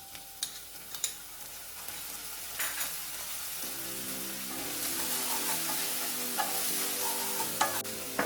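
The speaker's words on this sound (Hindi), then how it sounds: "हम फ्लेम को हाई कर देंगे और इसको भी हल्का सा सौटे कर लेंगे।" Onions sauté over a high flame with soy sauce for Indo-Chinese chicken lollipop, giving a steady close sizzle broken by scattered clacks of a spoon stirring in the pan, with no voices.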